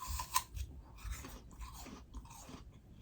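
Crunchy apple being chewed up close, a series of sharp crisp bites followed by softer rhythmic crunching, with no voices.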